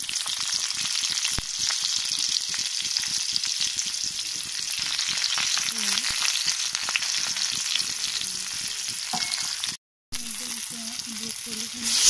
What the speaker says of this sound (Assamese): এতিয়া কেৰাহীখন গৰম হৈ পিঁয়াজ দিছোঁ